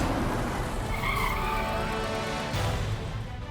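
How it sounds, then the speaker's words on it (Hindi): A car arrives with tires skidding and squealing over a loud engine and rushing road noise, the screech rising and fading across a few seconds. "कोई गाड़ी आई?"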